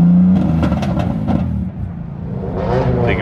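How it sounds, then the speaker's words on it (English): At a busy car meet with traffic and police around, a car engine revs loudly, a deep rumbling roar that swells and eases over a few seconds. "This guy's gonna rev up his car again"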